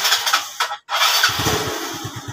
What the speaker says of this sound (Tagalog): So, try muna natin paandarin.